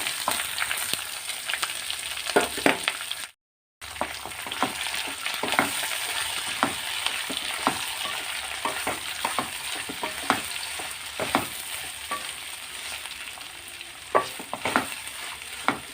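Half a kilo of cut ginger and a quarter kilo of long green chillies sauté in a pan for a ginger-tamarind pickle, with a busy close sizzle and frequent stirring scrapes and a brief dropout early on.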